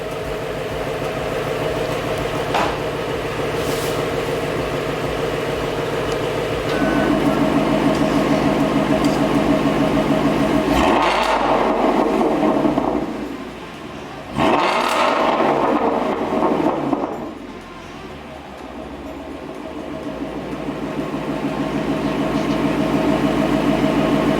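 A Ford Shelby GT350 with its exhaust resonator deleted, running in sport mode, gives a steady loud drone that swells into two strong revving bursts near the middle, then settles back to a sustained rumble.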